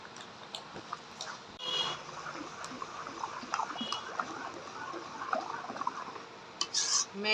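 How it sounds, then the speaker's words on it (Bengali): A mango pudding mixture is stirred continuously in a kadai on the stove, giving soft scraping and sloshing with a few light metallic clinks of the spoon against the pan, fairly quiet and close. "অনবরত নাড়তে থাকবো"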